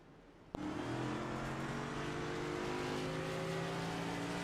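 A pace car at Watkins Glen in a racing video game starts up with a sudden onset, then its engine holds a steady droning hum with rising tonal whine, close and continuous throughout.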